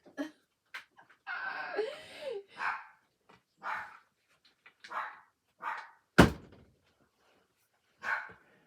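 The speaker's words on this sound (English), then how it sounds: "She's the one barking." A dog barks indoors in a room where paint crafts are being made, a string of short, sharp barks spaced out over several seconds at moderate distance, with a louder bark near the end.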